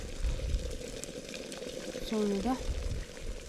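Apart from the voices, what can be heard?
tea water boiling in kettle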